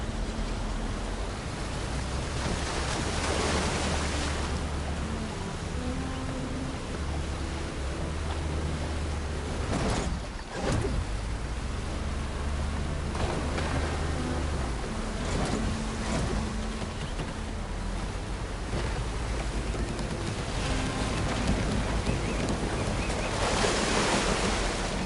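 Boat sailing across ocean waves in Horizon Forbidden West: Burning Shores, with a steady broadband rush of surf and wind that stays loud and constant throughout, briefly dipping near the middle.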